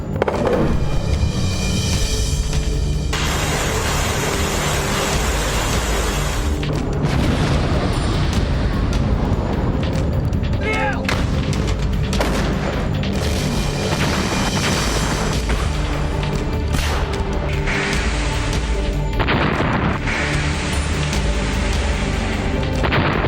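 Heavy booms of Russian missile strikes in Ukraine rumble through a dense, continuous roar of blasts and low thunder, loud and sustained, with no voices.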